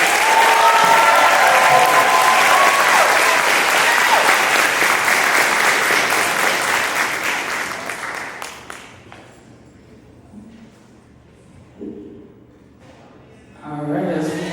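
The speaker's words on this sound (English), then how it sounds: "let's give a round of applause for our top seed" Loud, dense audience applause fills a graduation ceremony honouring the top seed, sustained for about eight seconds before fading to scattered claps and near quiet, with a brief swell again at the end.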